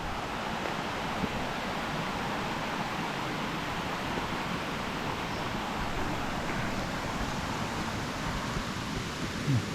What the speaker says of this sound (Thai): เสียงน้ำตลอดเลย